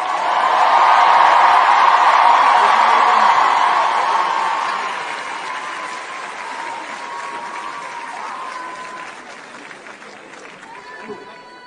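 A large crowd applauding loudly with scattered cheers, swelling early then gradually settling into steadier, softer clapping that carries on throughout.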